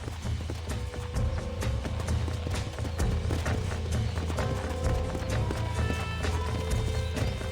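Horse hooves clip-clop in a video game, a quick, loud, rhythmic run of sharp hoofbeats over a continuous rumbling backdrop, with no talk.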